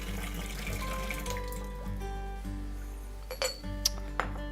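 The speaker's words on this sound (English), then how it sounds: "So just give that a little swirl around and pour it away." Warming water swirled in a teapot and poured away into a sink, heard as a steady running-water wash with light glassy clinks and a couple of brief splashes near the end.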